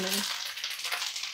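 Curry leaves crackling in hot oil for a tomato pickle tempering, a short burst of fizzing sizzle that swells after a brief low hum at the start.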